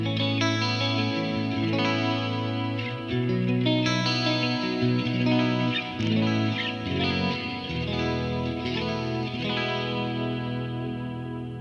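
Electric guitar on a clean channel through a Kemper Mesa JP2C profile with effects: full, shimmering chords with chorus-like modulation and a little echo, played continuously and loud with no talking.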